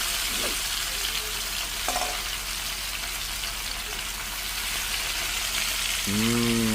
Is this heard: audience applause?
no